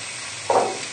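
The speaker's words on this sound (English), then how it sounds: "we'll just give this a little stir in just to mix it together with the shallots" A short, soft scrape of Dijon mustard being stirred into cooked shallots in a pan, with a faint sizzle underneath, brief and close.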